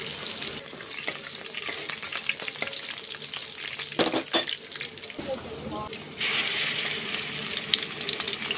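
Green chillies fry in a pan for a village-style fish curry, a steady broadband sizzle running throughout, with scraping stirs around the middle and a louder burst of hissing toward the end; no one speaks.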